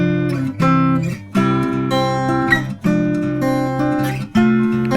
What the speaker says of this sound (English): we're going to take a boring acoustic guitar sound like this.